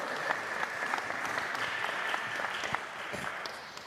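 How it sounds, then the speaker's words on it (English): Audience clapping for the evening's panel at a San Francisco Arts Commission event, a steady moderate wash of applause from a crowd, somewhat distant. "You can clap."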